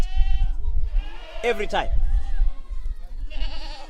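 Goats bleat in a farm setting, a few wavering cries rising under and between a man's speech, one loud burst in the middle and another near the end.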